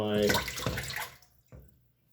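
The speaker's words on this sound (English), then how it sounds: "I'm going to take this chicken stock, I'm going to pour it into" Chicken stock pours into a stock pot in a kitchen, making a gushing, splashing stream that tapers off after about a second, followed by a short final splash.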